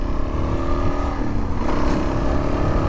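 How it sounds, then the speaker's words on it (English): A hot-wired Suzuki DRZ400 dirt bike runs close by, its single-cylinder engine droning steadily with a brief shift in pitch midway. "And I am riding a hot-wired bike."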